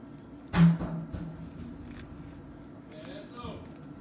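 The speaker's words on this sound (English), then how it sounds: "Now I'm gonna cut the remaining parts of the tape." A single sharp snip of scissors cutting through tape while making a bookmark, close and quiet, followed by faint rustling and handling.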